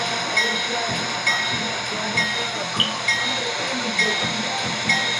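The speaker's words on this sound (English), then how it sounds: "How long is this Amtrak train gonna sit here?" Amtrak Empire Service train idling at a station platform, a steady rumbling hiss with soft periodic thumps repeating about once a second, near and continuous, with no one speaking.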